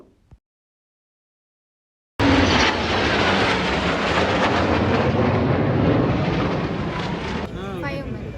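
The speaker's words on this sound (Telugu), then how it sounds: "ఇప్పుడు స్టార్ట్ అయినాయి ఫ్లైట్స్ అవన్నీ పోవుడు." Military jets roar low overhead during the Bastille Day flypast in Paris, bursting in loudly after a brief silence and sustaining a broad, heavy rumble that tapers near the end.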